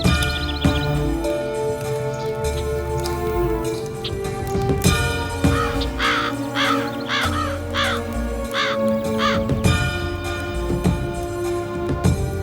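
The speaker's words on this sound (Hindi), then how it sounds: "कौवा कौवा कौवा कौवा कौवा कौवा कौवा कौवा कौवा कौवा कौवा कौवा" Several crows caw close by, giving repeated harsh rasping calls in uneven bursts over a layered background of music and ambient noise in a Hindi-dubbed action film scene.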